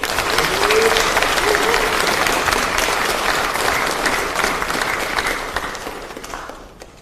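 Sustained applause from a crowd at a party caucus meeting, steady and dense for several seconds before gradually thinning out toward the end.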